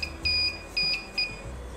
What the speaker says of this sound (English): So when you hear it beeping, it's actually detecting the arc.